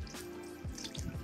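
Water poured over a car window treated with nano-protection and running off the glass, with close dripping and trickling and a few distinct splats near the end.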